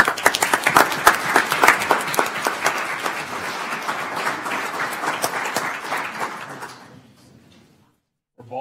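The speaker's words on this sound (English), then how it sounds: "applause, please." An audience at an El Paso County Commissioners Court meeting breaks into a round of applause, loud and dense at first, then tapering off into near silence.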